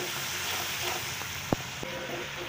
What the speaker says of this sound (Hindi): टमाटर हमारा भून चुका है